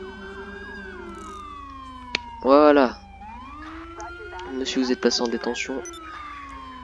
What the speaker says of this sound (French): je vais couper mes sirènes parce que j'ai oublié encore